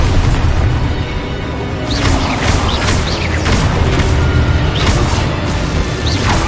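Spell blasts in Hogwarts Legacy, a dense, loud barrage of booming impacts and crackling bursts layered over a constant roar of battle noise, with no clear pauses.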